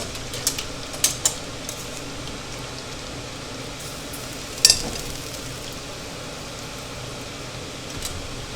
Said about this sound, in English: Back in with the fries.